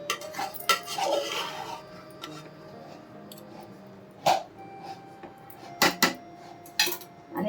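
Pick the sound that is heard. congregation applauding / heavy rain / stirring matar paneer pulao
stirring matar paneer pulao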